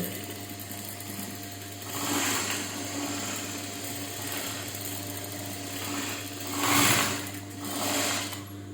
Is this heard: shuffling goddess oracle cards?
no